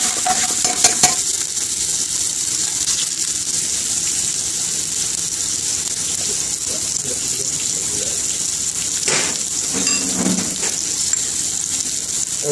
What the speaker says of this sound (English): I'm going to chip the onions in. Put in a bit of hint of salt.